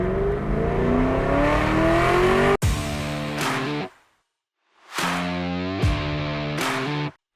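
A 2011 Chevrolet Camaro SS convertible engine revs up hard with rising pitch, cuts off sharply, then roars through two more loud bursts of acceleration separated by a brief silence, close and alone.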